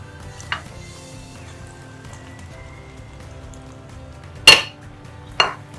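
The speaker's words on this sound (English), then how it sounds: "Give everything a good stir." Metal spoon scraping and clanking against a cooking pot while Nigerian soup with fish is stirred over low heat, a faint tap early on, then two sharp clatters near the end over a low background hum.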